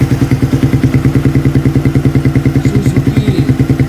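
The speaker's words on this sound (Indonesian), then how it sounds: "Untuk knalpotnya seperti ini dari" A Suzuki Satria FU motorcycle exhaust running at a steady idle, a close, loud and even rhythmic thumping pulse with slight clatter, no talk over it.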